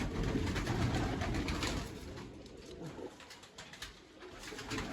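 Pigeons coo in a loft or rooftop flock, low throaty burbling calls repeating close by over a dense, noisy background, with no speech.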